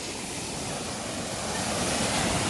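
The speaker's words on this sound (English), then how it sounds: "That's a falls." Cascade waterfall on a river hike in Holywell, Jamaica, a steady broadband roar of rushing water, loud and continuous with some wind buffeting the microphone.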